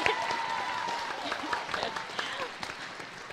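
Applause at a school band concert for 7th and 8th graders, a fairly faint round of clapping from the audience that fades out. A voice is heard over it.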